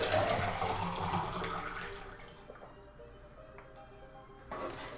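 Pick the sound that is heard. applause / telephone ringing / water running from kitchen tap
water running from kitchen tap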